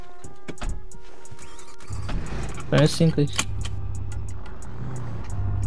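A low video-game car engine drone in GTA roleplay kicks in partway through, joined by a few mechanical clunks, while someone speaks briefly over it.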